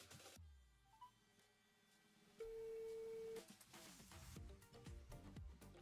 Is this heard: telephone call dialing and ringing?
yes